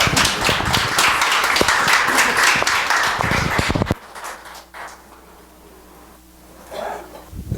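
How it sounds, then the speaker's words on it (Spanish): Loud audience applause at a church service, a dense burst of many hands clapping that stops abruptly midway, leaving a quiet room with faint murmurs and stray sounds. "un aplauso, por favor"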